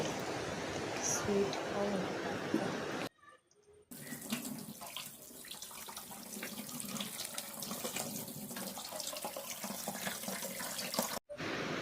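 Water runs loudly from a kitchen tap while food is washed in a sink, splashing steadily with a short break partway and a brief cut near the end.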